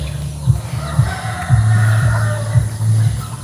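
A rooster crows on a small farm while chickens cluck around it, with repeated calls close by and a faint steady hum underneath.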